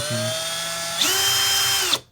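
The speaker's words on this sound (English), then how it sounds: "I can spin it with my drill." A power drill spins a bent bar with a piece of tape on it, whirring steadily at one speed, then revving up to a higher pitch for about a second before stopping abruptly; close and loud.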